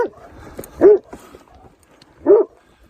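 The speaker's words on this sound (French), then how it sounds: "Et il va m'aboyer jusqu'à ce que je sois en dehors de son territoire." A livestock guardian dog guarding flocks on a hiking trail near Saignelégier in the Jura barks twice, loud and fairly close, with a long pause between the two deep barks.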